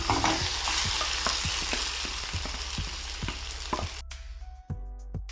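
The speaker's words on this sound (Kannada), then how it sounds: "ಇವಾಗ ಈರುಳ್ಳಿ ಎಲ್ಲ ಫ್ರೈ ಆಗಿದೆ ಇದ್ರ ಜೊತೆಗೆ ಇವಾಗ ನಾನು ಸೊಪ್ಪು ಸೇರಿಸ್ತಾ ಇದ್ದೀನಿ" Bottle gourd greens with fried onions crackle and sizzle in a hot pan while a utensil scrapes and stirs in regular strokes, ending with a louder hiss.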